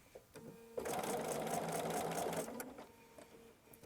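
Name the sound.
sewing machine stitching quilt block fabric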